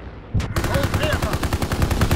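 Sustained machine gun fire in a World War II shooter game, rapid close bursts starting abruptly and continuing loud and steady, with explosive impacts mixed in and no talk.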